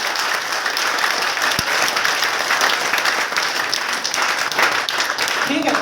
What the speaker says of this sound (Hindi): सर के लिए फिर से एक बार जोरदार ताली